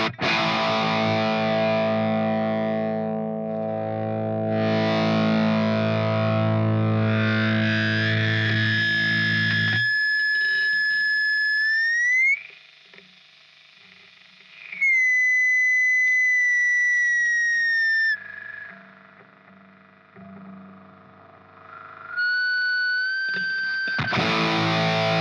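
Electric guitar through a Harley Benton Rodent Rat-clone distortion pedal: a thick distorted chord gives way to sustained high feedback squeals that bend up and down in pitch, then a return to gritty distorted playing.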